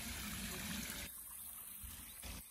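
Steady rushing water from an artificial waterfall in the Nandankanan botanical garden, a continuous broadband splash that is loud at first and then drops slightly softer, with no talk over it.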